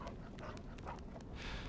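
A wolf-dog in the Until Dawn video game pants in quick, steady breaths up close, the rhythmic huffing running continuously against a low background hum.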